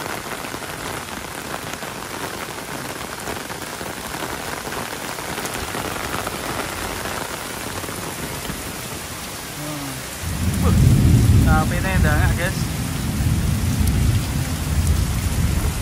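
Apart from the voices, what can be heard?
heavy rain with thunder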